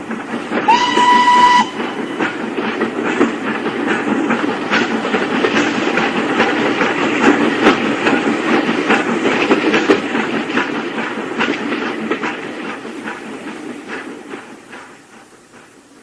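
A train rumbles and clatters past close by, a whistle blowing briefly at the start, then the rolling noise gradually fades away.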